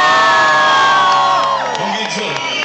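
Crowd at a live hip-hop concert in Hamburg cheering and whooping loudly, a dense sustained roar of voices with shouts rising and falling throughout.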